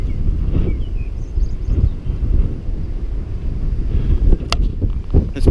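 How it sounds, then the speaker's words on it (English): Strong gusty wind on the Great Ocean Walk coastal path near Cape Otway Lighthouse, buffeting the microphone with loud low rumbling gusts that rise and fall throughout, with no talking. "It's very windy."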